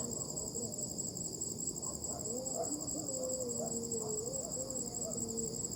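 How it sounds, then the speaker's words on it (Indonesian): Steady, high-pitched insect chirping fills the background continuously at night in a dark cemetery, with faint warbling calls drifting underneath; no voices. "Banyak suara serangga."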